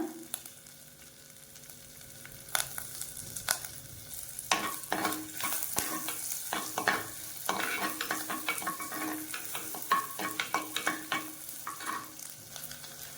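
Ginger and garlic sizzle in a hot pan while a utensil stirs and scrapes, with irregular clinks and bursts of frying, no talking.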